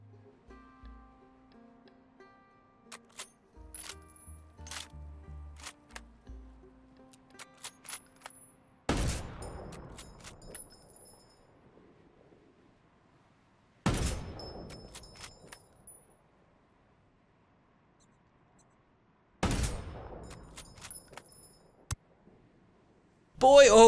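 Sharp sniper rifle shots from the video game Ghost Recon crack out three times at spaced intervals, each followed by a short decaying tail, with quieter clicks and game sounds between.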